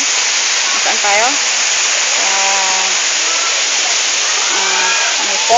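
The waterfall at Seagull Mountain resort roars in a constant, loud rush of falling water while several people talk over it nearby.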